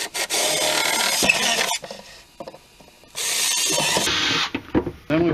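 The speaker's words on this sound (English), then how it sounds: "And then we're going to go ahead and drill those two marked locations out." A power drill bores holes through a CVT cover for a Can-Am turbo install, with two loud sustained grinding bursts split by a quieter pause of small scraping taps, then brief rattles at the end.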